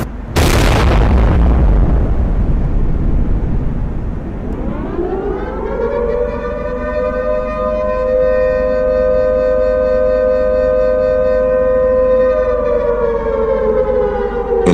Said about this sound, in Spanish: una explosión de vapor rompió el silencio de la noche